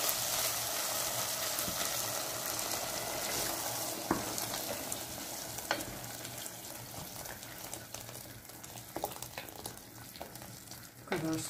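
Water poured into a pan of green lentils and spinach, steady hissing and bubbling of the hot mixture with occasional clicks and stirring knocks throughout.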